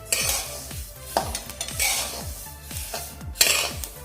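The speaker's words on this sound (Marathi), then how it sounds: "आपल्या तिळांचा आवाज यायला लागला आहे थोडासा आपले तिळ भाजत आले" Sesame seeds roasting in a heavy pan for til ladoo, with a spoon scraping and knocking against the metal in repeated strokes over a soft crackling sizzle, close and clear and with no talking.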